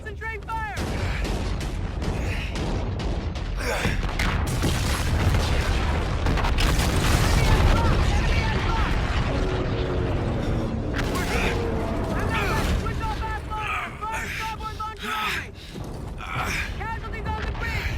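Warship guns boom and explosions burst in a Call of Duty: Infinite Warfare naval battle, heavy thuds and crashing blasts piling up amid shouted voices and clanking machinery.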